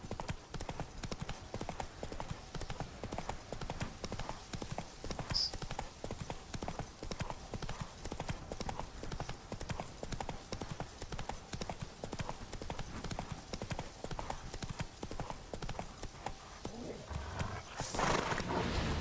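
Horse hooves clip-clopping in a steady trotting rhythm in the video game The Witcher 3, continuous and fairly quiet throughout, with occasional faint snorting and a brief louder burst near the end.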